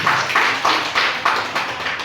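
A small group applauds in a classroom or meeting-style session, brief bursts of clapping in several uneven pulses, close and moderately loud, with no speech over it.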